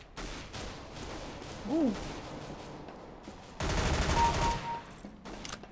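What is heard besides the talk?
gunfire in CS:GO video game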